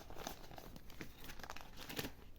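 Paper packets crinkle and rustle steadily while paper surprise packs are unpacked, with crisp crackles and a few sharper tearing-like bursts, close and continuous, with no talking.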